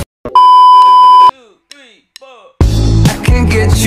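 A cellphone gives a loud, steady electronic beep lasting about a second, followed by a few faint chirps, then louder music and sound cut in.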